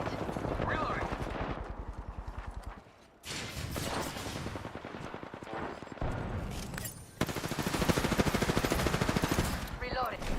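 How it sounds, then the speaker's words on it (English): Sustained automatic gunfire in a shooter video game, with dense rapid bursts of shots running almost continuously, loud and close, briefly dropping out before resuming. "They're shooting at me."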